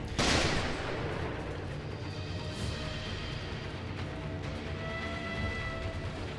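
A loud blast opens, followed by a continuous rumble of gunfire and explosions, with rattling booms rolling on in game-like combat during a boss fight in Sekiro: Shadows Die Twice.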